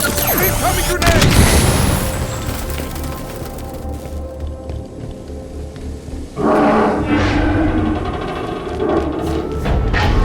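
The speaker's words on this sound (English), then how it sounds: "Incoming grenade!" Halo 5: Guardians combat with a grenade blast: dense thumps and booms with splintering debris, loud and close, followed by a sudden burst of renewed gunfire and impacts amid ongoing battle noise.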